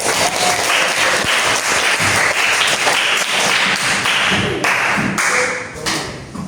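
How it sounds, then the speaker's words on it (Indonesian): Students in a classroom clap for their classmates, a dense and loud round of applause that holds steady for several seconds and tapers slightly at the end. "beri aplaus sama temanmu"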